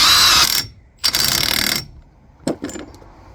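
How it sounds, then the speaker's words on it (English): Pneumatic impact gun nipping up the big front wheel hub nut on a Ford Transit during a wheel bearing replacement, loud rattling bursts: one long hammering run, a second sustained burst, then a short final blip. "Big fat nut on first, then the nut. And we'll just nip that up with a gun."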